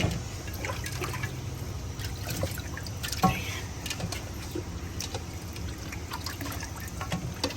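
Soaked pork rinsed under running water, a steady splashing and trickling flow with occasional louder drips and splashes, close and continuous throughout.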